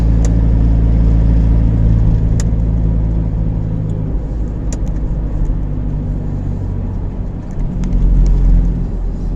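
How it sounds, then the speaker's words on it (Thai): A truck's engine drones loud and close as the driver shifts up into third and fourth gear on a long haul, a steady low rumble whose pitch steps down when the gear changes, with faint rattles above. "ขึ้นเกียร์สามเกียร์สี่สบายครับ"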